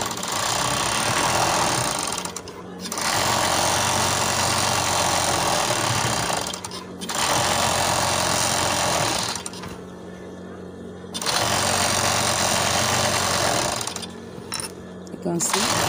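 An industrial sewing machine stitches material in long steady bursts, a loud mechanical whir with a low hum, stopping briefly between runs before starting again.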